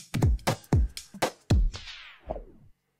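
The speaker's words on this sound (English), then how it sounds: "it's like a record slowdown" A record-slowdown effect is applied to a looped vocal sample, giving a series of loud, rhythmic chopped hits whose pitch sags and drags lower until the sound winds down and stops.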